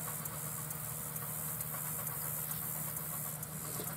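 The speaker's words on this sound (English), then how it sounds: "But this is an 8R250 with a KMC 6-row, 36-inch row peanut inverter, or peanut digger, or peanut shaker." A John Deere 8R250 tractor hitched to a KMC six-row, 36-inch peanut inverter runs in a farm field, its engine holding a steady, even hum with a faint rhythmic vibration and no talking.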